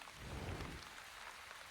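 Rain falling from a rain cloud in the game The Wandering Village, a quiet, steady hiss of rainfall with a soft low rumble swelling briefly early on before easing back.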